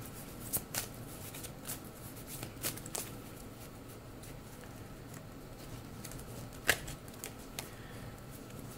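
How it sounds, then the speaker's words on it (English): Color oracle cards being shuffled by hand, a soft papery patter with a few sharper riffling snaps, fairly quiet and close with no talking. "let's go ahead and pull a color oracle card to round out your reading"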